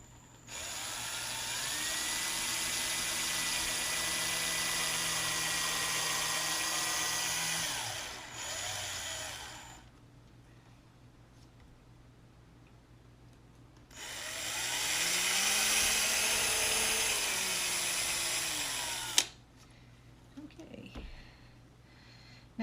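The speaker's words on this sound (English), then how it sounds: "I'm going to just go ahead and drill those holes too" A power drill whines through two long bursts while boring holes in a wooden picture frame, close and loud, the motor dropping pitch as the bit bites, with quieter knocks and handling between the bursts.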